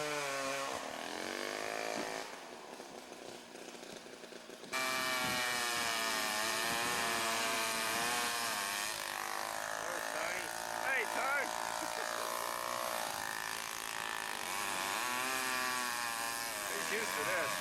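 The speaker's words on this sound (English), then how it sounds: "where these guys are cutting up some timber" A chainsaw cuts up timber in an open field across the road from a camp. The loud, sustained engine drone rises and falls in pitch as it bites, easing briefly before revving back up, and a voice talks over it.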